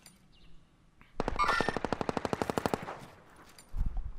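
Call of Duty Warzone gunfire, one rapid automatic burst of about twenty evenly spaced shots lasting under two seconds, close and loud, with faint game noise before and after.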